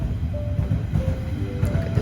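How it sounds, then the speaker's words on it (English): A passing train rumbles low and steady nearby, with faint metallic squeal tones drifting over the continuous roar and no talking. "There's a train."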